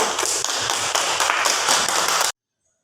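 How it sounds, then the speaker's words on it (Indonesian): Students in a classroom give a group a round of applause, a dense, even patter of many hands lasting about two seconds before cutting off to silence. "beri tepuk tangan untuk kelompok"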